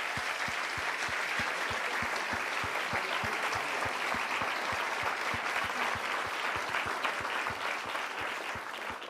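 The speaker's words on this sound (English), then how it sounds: "Can we give him another round of applause?" An audience at a CreativeMornings New York talk applauding steadily, a dense rolling clap that holds at an even level throughout, with no talk over it.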